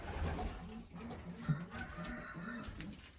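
Racing pigeons coo softly and repeatedly inside a loft during the young-bird season, low rhythmic calls repeating about every half second over faint background rustle.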